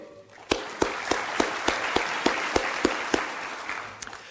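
Audience applause at a Michigan State University athletic director's introductory press conference, a steady round of clapping with sharp individual claps standing out, rising quickly, holding for several seconds and then tapering off.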